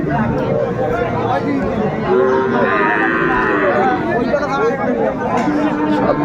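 Calves, bull calves, moo several times, drawn-out and fairly close, amid steady crowd chatter and cattle market hubbub.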